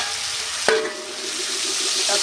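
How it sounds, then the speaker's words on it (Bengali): A bay leaf fries in hot oil for khichuri, with a steady bright sizzle throughout and a single sharp clack of a utensil partway through. "তেজপাতাটা ভাজা হয়ে গেছে, আমি ডালের মধ্যে তেজপাতাটা দিয়ে দেব।"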